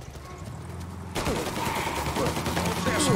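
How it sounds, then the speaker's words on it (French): Gunfire erupts in the game Mafia Definitive Edition, a dense burst of rapid shots starting about a second in and continuing loudly over a background engine drone, with no talk. "Qui c'est qui tire ?"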